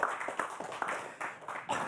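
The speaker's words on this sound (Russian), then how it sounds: "Эти аплодисменты тебе." A studio audience at a cycling-season opening show gives a brief burst of scattered applause, quiet and a little distant, lasting under two seconds.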